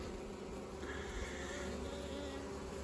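Honeybees hum around a colony's hive entrance on a spring day as foragers fly in carrying pollen, a dense, steady buzzing drone, soft but continuous, with no voices.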